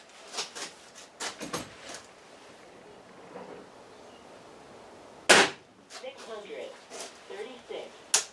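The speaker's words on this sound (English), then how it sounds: "Okay, first shot was 636 feet per second." A Gamo Whisper IGT gas-ram air rifle fires a single sharp, close crack partway through. Quieter clicks and handling noises come before and after it, and a voice is heard nearby.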